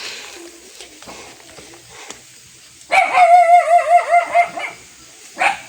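Dogs bark and yelp in a quick, loud burst close by, followed by one more sharp bark after a brief pause.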